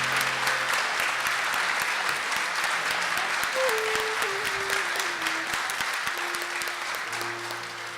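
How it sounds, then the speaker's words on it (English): Audience applause after a sung performance of a patriotic song at a conference opening general session, steady dense clapping from a large crowd throughout, with a sustained organ-like tone underneath, fading slightly toward the end. "Another round of applause."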